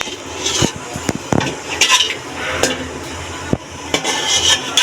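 Dried red chilies fry and get stirred in a pan while khichuri is being made, giving a soft crackling sizzle broken by several sharp scrapes and clinks of a utensil against the metal.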